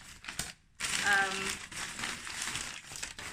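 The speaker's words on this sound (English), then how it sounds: "And then I got this, which is proper wrapped up. I have to actually cut this off." Crinkling and crushing of plastic or paper wrapping being cut away from a thrifted home decor item, a dense rustling burst after a brief pause, with a voice talking alongside.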